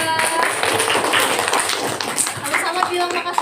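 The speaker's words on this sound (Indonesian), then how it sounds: "Tepuk tangan dulu buat Najla." A group claps for Najla in a classroom session, brisk scattered hand claps heard close and fairly loud, mixed with voices talking.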